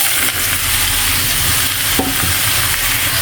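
Water lily stems coated in mustard paste fry loudly in a wok, a constant close sizzle broken by a few scrapes and knocks of a spatula, with no talking.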